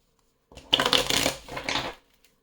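Divination cards being shuffled by hand, one brief run of papery riffling and flicking about a second and a half long, close and fairly loud, with no talk.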